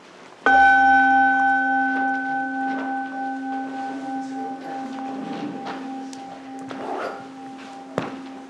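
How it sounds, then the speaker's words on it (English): A meditation bell is struck once at a mindfulness session, its bright, pure tone ringing out clearly and fading slowly over several seconds while faint room sounds and a small knock follow. "Ring the bell?"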